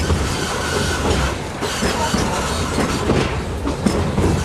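A 1925 Baldwin steam locomotive rolls along the Walt Disney World Railroad, its railcars giving a steady loud rumble with clickety-clack wheel noise, close and continuous.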